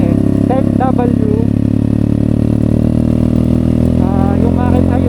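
A motorcycle engine runs steadily while riding to Kaybiang Tunnel, a constant loud drone with faint whining tones over it, after an oil change from Motul 10W40 because the engine was running hot.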